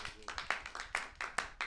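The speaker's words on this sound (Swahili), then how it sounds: "Mpigie makofi tena." An audience at a speaking event claps again on cue: a steady, even rhythm of claps roughly every fifth of a second, with a voice running faintly underneath.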